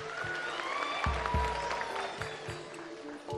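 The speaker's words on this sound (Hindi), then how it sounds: "जिनको लगता है 7 नंबर में 10 तोला है जरा तालियां बजाना।" Studio audience at a Pakistani game show applauding steadily, a dense wash of clapping hands sustained throughout with a few louder thumps.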